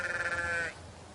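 A single sheep gives a clear bleat during a sheepdog trial on an 8,000-acre estate. The wavering call is close and moderately loud, lasts under a second, then gives way to quiet field ambience.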